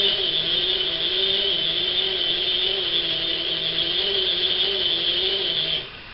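Steady close whirring of a hand-cranked Little Vesta vintage sewing machine as it winds, a continuous mechanical drone with slight rhythmic pulsing that drops away abruptly at the very end.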